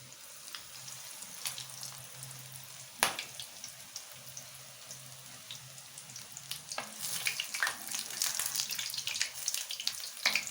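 Chicken potato rolls frying in moderately hot oil, a soft continuous sizzle that grows busier and crackly toward the end, with a sharp clack partway through and a faint background hum.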